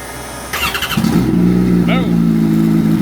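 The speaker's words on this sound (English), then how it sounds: "we do have it to where the bike fires up and it runs and there's no more misfiring" A Kawasaki ZX-14R land speed record motorcycle fires up on a dyno, catching after a brief crank and settling into a loud, steady high-pitched engine drone; a person talks briefly over it.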